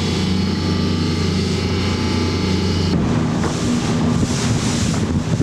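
Strong wind buffets a small boat at sea near Sitka, a loud continuous roar with a low engine-like hum underneath that shifts to harsher gusting halfway through, with no voices.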